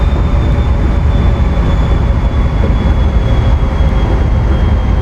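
A Santa Fe Express train runs across the Sonoran Desert in a train game, giving a loud, steady rumble and rolling clatter with a thin high whine above it and no pauses.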